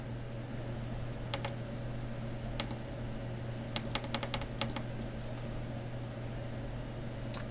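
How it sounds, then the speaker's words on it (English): Wrong code punched into a button keypad: sharp plastic clicks, a couple of spaced presses and then a quick burst of several presses, faint over a steady electrical hum. "And I'll type the wrong code in."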